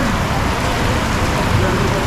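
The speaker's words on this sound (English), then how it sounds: "And we got a little bit of rain." Steady rain falling at Village Key Marina in Road Town, Tortola: a loud, dense, constant hiss filling the whole moment without letup.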